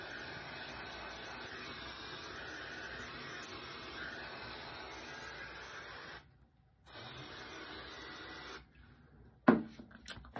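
A hair dryer blows steadily to set freshly applied makeup during a stage-character transformation, a loud continuous whoosh that cuts off briefly, restarts, then stops near the end with a clatter.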